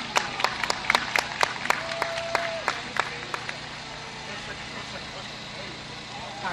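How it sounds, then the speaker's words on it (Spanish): Applause for a cardiology doctor on a diabetes radio program: a few sharp, distinct claps ring out in quick succession, then thin out and fade within a few seconds, leaving background noise and low voices. "Por favor, un fuerte aplauso"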